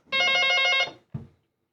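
A telephone rings once with a bright electronic trill lasting under a second, followed by a short click, clear and close against silence.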